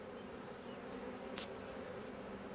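Honeybees in an open hive under inspection, a steady soft buzzing drone with one brief closer bee passing by, faint and continuous, no talk.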